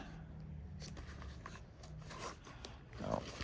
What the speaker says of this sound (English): these plastic bags start sticking on each other.